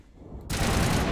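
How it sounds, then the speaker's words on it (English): A sudden burst of rapid assault rifle fire in Mass Effect, loud and sustained after a quieter lead-in, a dense automatic stream to the end. "please tell me they made the assault rifle sound better."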